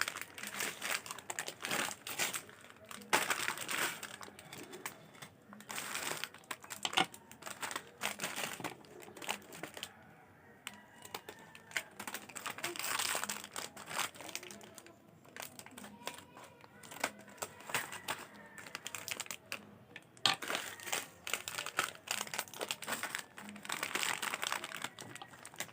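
Plastic packaging crinkles and crumples in repeated close bursts while being cut open with scissors, with short quiet pauses between handling; a voice speaks occasionally.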